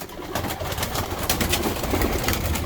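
Pigeons cooing softly and continuously in an enclosed space, several birds overlapping with a low, murmuring texture.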